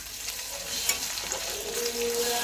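Tomato and ginger-garlic paste fry in a pan for an egg curry, giving a steady, close sizzle with soft crackles and a slight rise in intensity.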